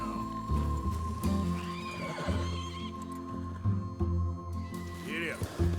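Horse in Red Dead Redemption 2 neighing and snorting close by, with hoof clip-clops and a rider's voice over steady game music.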